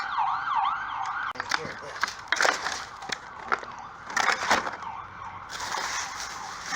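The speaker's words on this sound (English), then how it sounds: "Oh, it's an ambulance." An ambulance siren wails in a rapid rising-and-falling pattern, broken by sharp clattering knocks and bursts of noise nearby.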